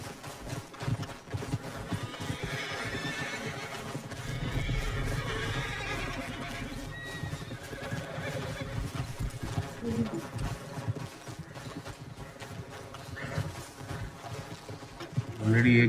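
Horses in the video game Red Dead Redemption 2, with a loud neigh and steady clip-clop of hooves over continuous game ambience, a voice talking at times.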